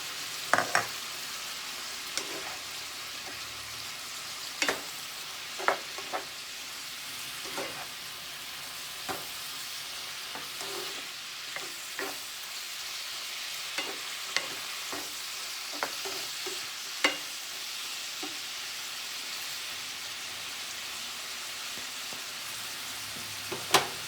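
Ham and bitter gourd stir-fry in a pan with a constant soft sizzle, broken by sharp spatula scrapes and clinks at irregular intervals; close and steady, with no talking.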